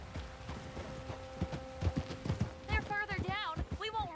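Horse hooves clip-clop at a walking pace in Red Dead Redemption 2, a steady close rhythm of soft thuds, joined near the end by a horse's snort and whinny-like calls.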